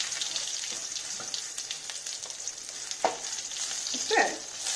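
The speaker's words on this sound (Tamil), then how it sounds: "கருவேப்பிலை போட்டுங்க. நல்லா பொரிஞ்சிருச்சுங்க கடுகு." Mustard seeds and curry leaves crackle and sizzle in hot oil in a home kitchen, a steady close hiss with scattered pops and a couple of louder spatters as the leaves hit the pan, no voices.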